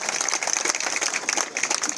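An audience at a community gathering honouring a newly elected board member claps steadily, dense rapid hand claps filling the hall at moderate loudness.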